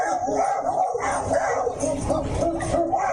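A person imitates a pack of dogs barking, yipping and howling in a tabletop fantasy role-play session, a loud, continuous jumble of vocal yaps and howls lasting about three seconds.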